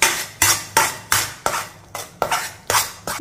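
A spoon scrapes and stirs ground amla paste in a kadai: about eight rhythmic metallic strokes, roughly one every 0.4 seconds, each a sharp close scrape fading quickly, with no voices.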